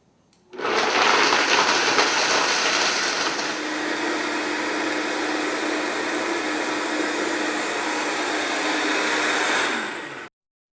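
A Vitamix Professional Series 500 blender runs a full cycle making hot chocolate fondue, a loud steady whir that starts abruptly, shifts pitch slightly after a few seconds, then holds evenly before cutting off, with no talking.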